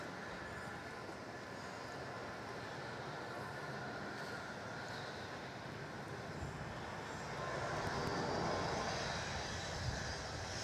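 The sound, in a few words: Jetstar jet airliner taking off on runway 34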